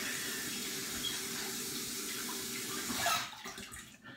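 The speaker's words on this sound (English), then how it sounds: "now what I do is I wet my towel with hot water." Hot water runs steadily from a tap to wet a towel, a continuous hiss and splash that ends abruptly as the flow is shut off near the end.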